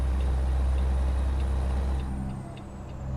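In American Truck Simulator, a heavy truck engine drones loudly and steadily, with a brief dip and hissing engine brake release toward the end, no voices.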